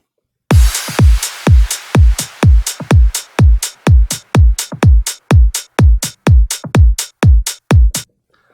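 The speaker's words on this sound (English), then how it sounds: "the most important elements are the hi-hats that sound like this." Hi-hat loops from a melodic house drop tick in a steady, rapid pattern of bright, crisp hits, each paired with a short low thump beneath, loud and alone with no voices.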